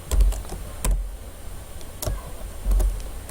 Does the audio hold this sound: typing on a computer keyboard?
yes